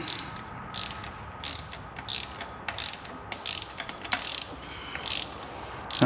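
A torque wrench ratcheting while exhaust manifold bolts are tightened on a 3.5 EcoBoost engine, a steady run of close clicking strokes in short repeated bursts with no talk.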